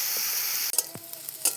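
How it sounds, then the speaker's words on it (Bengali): Potato and eggplant pieces frying in fish oil, a steady close sizzle with a few stirring scrapes and clinks over it, nobody talking. "এইদিকে হচ্ছে মাছের তেল দিয়ে আলু বেগুন বসিয়েছি, ভাজা করব"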